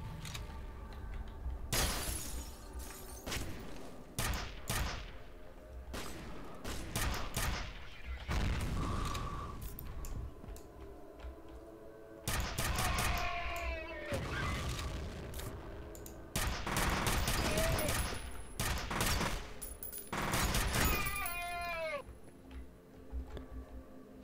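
Nail gun fire in the shooter F.E.A.R.: bursts of sharp, metallic rapid shots come in clusters and are separated by pauses, along with pinging whistles and impacts, and a voice speaks between the volleys.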